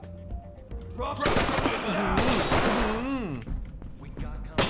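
Rapid bursts of gunfire in the tactical shooter Ready or Not, loud and close, mixed with shouting voices and game effects.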